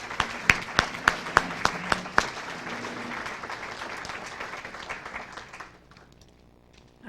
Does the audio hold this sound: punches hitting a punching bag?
no